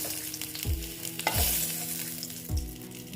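Pieces of vegetable, including ash gourd, sizzle steadily in hot oil while a utensil stirs them, with three sharp scraping strokes spaced about a second apart.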